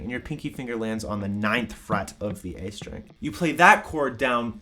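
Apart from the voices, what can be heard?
No distinct noise like a dog, phone or traffic.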